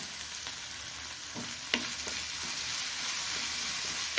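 Chopped tomato drops into a pan of sautéing onions and spring onion for a dal, with steady sizzling and a few light stirring scrapes and clinks close by.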